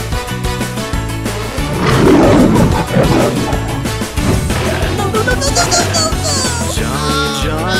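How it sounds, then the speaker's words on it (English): A lion's roar swells as a broad, rumbling burst around the middle of the clip, blended into loud, continuous cartoon-style music that plays throughout. "This is a lion."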